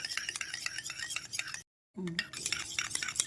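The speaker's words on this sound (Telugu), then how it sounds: "ఇదిగో అన్నీ ఇలా కలిపేసుకోవాలి" A homemade coconut milk soap mixture is stirred in a container, giving quick close scraping and clinking strokes with a brief silent gap midway.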